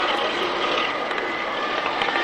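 Helicopters fly past at the 1996 Yeovil Airshow, a continuous loud, broad engine and rotor roar that holds steady throughout.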